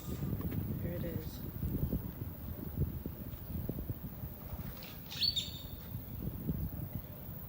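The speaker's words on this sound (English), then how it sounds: "Oh, there's wildlife, birds." Wild birds chirp in Meyer Park, with a few brief, faint tweets over wind rumble and rustling, and one sharper call near the end, while people talk quietly close by.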